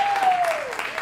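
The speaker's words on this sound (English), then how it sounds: "give him a round of applause" Audience applause for the bass player of an open mic jam band, a steady burst of clapping close by with a faint sustained tone over it.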